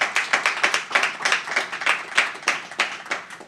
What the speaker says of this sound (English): A round of applause for the panel, please.